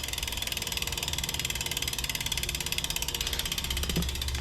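The freehub of a Lauf Uthald bicycle wheel ratchets as the wheel spins, a fast, even clicking that stays steady and close throughout, with a brief knock near the end.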